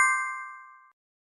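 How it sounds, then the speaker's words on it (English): A notification bell sound effect: a single bright metallic ding struck once at the start, ringing cleanly and fading away over almost a second before silence. "ring that notification bell"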